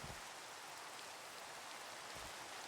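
Soft, continuous rain falling in Minecraft, a smooth even hiss with no pauses, fairly faint and heard alone without any voice.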